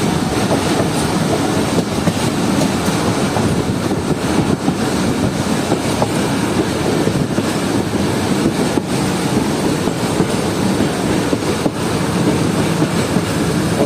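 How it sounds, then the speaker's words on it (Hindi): The Zikriya Express pulls into Bahawalpur railway station with a loud, continuous rumble and faint rhythmic clatter of wagons, wind buffeting the microphone, and no voices. "हमारी ट्रेन यानी कि 25 और बावली जिगरी एक्सप्रेस पहुंच रही है भावलपुर रेलवे स्टेशन पर"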